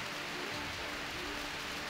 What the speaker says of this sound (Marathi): पावसासोबत काही ठिकाणी गारा देखील पडतायत।